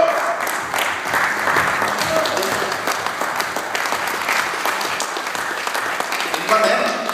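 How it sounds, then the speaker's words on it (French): Steady audience applause fills an award ceremony hall, a dense patter of many hands clapping continuously at moderate volume for several seconds, with faint voices beneath. "J'aimerais qu'on l'applaudisse très très fort également."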